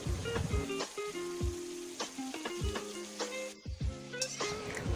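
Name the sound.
ginger-garlic paste, salt and turmeric cooking in pan, stirred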